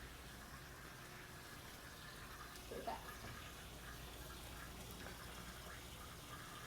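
Water runs through a hose from a pump during an aquarium water change, a faint, steady rushing gush that continues throughout with a brief splashy swell midway.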